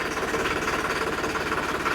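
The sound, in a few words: tractor engine revving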